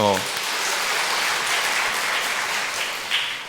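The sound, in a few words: congregation applause in church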